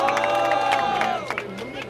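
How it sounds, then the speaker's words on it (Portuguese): A rap battle crowd cheering and shouting loudly for a contestant, a dense roar of voices close by, easing slightly toward the end. "quem acha que DNA merece o primeiro round, faz barulho"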